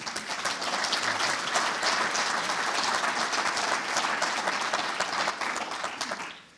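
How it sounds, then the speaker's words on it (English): Audience applause at a Jim Green memorial gathering in Vancouver; dense, sustained clapping from a large crowd holds at an even level for several seconds before falling away at the end. "Clap for yourselves"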